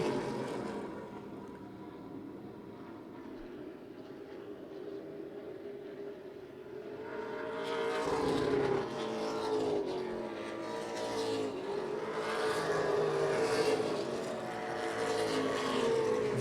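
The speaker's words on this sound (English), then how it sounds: "Fastest car on the track right now" Race cars roar around a racetrack in a steady engine drone that swells as a pack passes close, with overlapping engine notes rising and falling and no talk on top.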